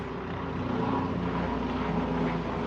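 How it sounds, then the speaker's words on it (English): A helicopter passes overhead, a steady droning rotor and engine rumble with a continuous low thrum that fills the whole stretch at moderate loudness, heard alone without voices. "Y'all hear that helicopter?"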